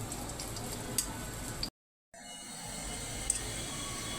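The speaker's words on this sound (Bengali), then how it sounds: "পেঁয়াজটা বেরেস্তা হয়ে আসছে।" Onions frying and browning in a pan for a soup made with rice starch water: a steady, close sizzle with a few small crackles, broken by a brief silent gap partway through.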